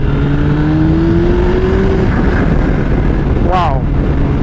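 A turbocharged 315-horsepower Suzuki Hayabusa motorcycle engine pulls hard under acceleration, its rising exhaust drone steady and loud against heavy wind roar, with a rider's voice heard briefly near the end.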